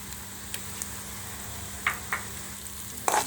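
Onion browning in oil in a kadai, a soft steady sizzle with a few light clinks of a spoon stirring.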